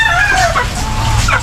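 A tethered Texas gamecock rooster clucks close by, two short loud throaty calls over a steady farmyard background.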